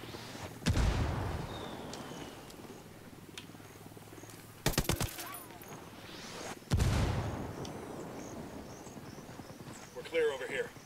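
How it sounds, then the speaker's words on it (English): Mortar fire in the video game Ghost Recon Wildlands, with heavy booming blasts landing at intervals, including a quick cluster of impacts midway, over a rumbling game background. "Got mortars."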